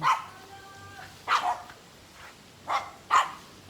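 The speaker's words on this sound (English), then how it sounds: "Those are our guard dogs." Guard dogs barking outdoors in a tropical garden, several sharp barks in irregular bursts with pauses between them, moderately close, no talking.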